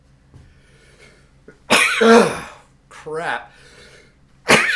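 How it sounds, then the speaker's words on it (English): A person sneezes and coughs forcefully after taking dry absinthe-flavoured snuff, with loud close bursts among a few quiet breaths and a brief muttered word. "There might be some sneezing going on here."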